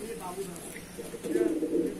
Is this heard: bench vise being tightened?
no